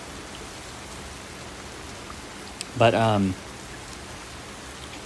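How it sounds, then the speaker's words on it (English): Heavy rain pouring down outside, a steady dense hiss of drops throughout, with a person briefly speaking over it near the middle. "I don't know if you could hear the rain, but it's pouring down now."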